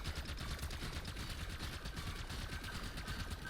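Rapid, tightly spaced shots from the DM10 weapon in Black Ops 6 Zombies, a steady fast stream of gunfire heard alone at moderate loudness.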